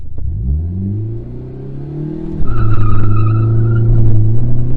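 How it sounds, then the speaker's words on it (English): A manual car's engine revs hard to around 5000 RPM, then the clutch drops into a short burnout, the engine note bogging and swelling loudly while tires squeal close by. "So let's say you give it too much gas and just let off the clutch completely"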